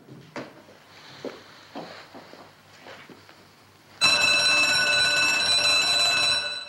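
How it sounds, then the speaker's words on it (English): A museum burglar alarm tied to photoelectric cells goes off when a circuit at a painting or display case is broken, a loud continuous electronic ringing that bursts in abruptly after a stretch of quieter shuffling sounds. "Whenever a circuit is broken at either a picture or one of the cases, an alarm sounds."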